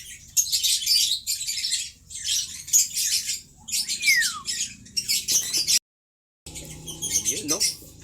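Gamefowl squawking loudly in repeated harsh bursts while being held in hand, with a brief silent gap and someone talking underneath.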